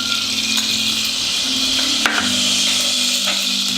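Ghee and oil heating in a pot or pressure cooker for a Sindhi curry give a steady, close sizzle with faint crackles and one sharp clink of utensil near the middle, no talk.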